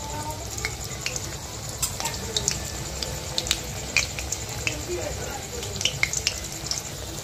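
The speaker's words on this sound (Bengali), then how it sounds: "উল্টা আরেকটা সাইড ভেজে নেওয়া হচ্ছে।" Mixed vegetable pakoras frying in hot oil after being turned to the other side, giving a steady close sizzle with frequent small crackles and pops throughout.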